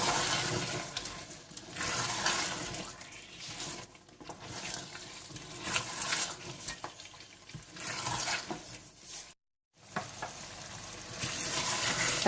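Mutton stew sizzles and fries steadily in a pot, the meat tender and the tomato and yogurt liquid cooked off, with scraping stirs and a brief pause partway through.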